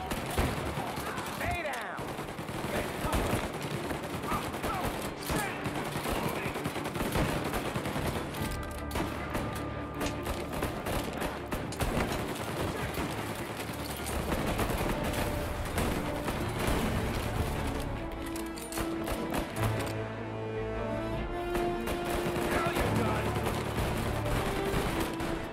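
Sustained gunfire in Mafia: Definitive Edition as rounds are fired through a wall, dense overlapping shots and bursts running almost without pause, loud and close, with music and effects mixed underneath.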